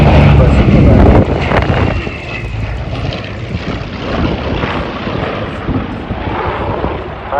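A twin-propeller A-26 Invader with two large Pratt & Whitney engines flying at the 2025 Southport airshow, heard as a loud, rough propeller roar that is strongest at first, then a steadier drone mixed with wind buffeting on the microphone.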